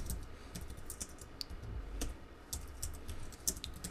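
A computer keyboard clatters with quick, irregular keystrokes as an SQL command is typed, close and fairly faint, with no voices.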